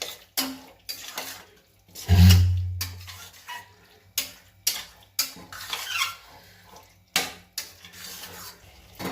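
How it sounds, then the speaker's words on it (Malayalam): Chicken pieces stirred in a pot for chicken biryani, a heavy thud and slosh near the start followed by repeated scraping and clinking strokes of a spoon against the metal pot, close up with no talk. "ചിക്കൻ ഇട്ട് കൊടുത്തിട്ട് നന്നായിട്ട് മിക്സ് ചെയ്ത് കൊടുക്കാം."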